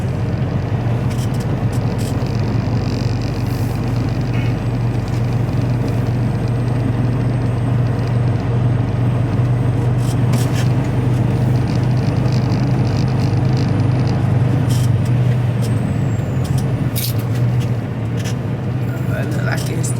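A truck's heavy diesel engine runs with a steady low rumble at a loading dock, continuous and fairly loud, while a person speaks over it.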